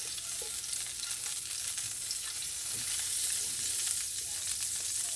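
Butter sizzles steadily in a hot pan for cooking T-bone steak, a constant close crackling hiss with faint stirring clicks and no talk.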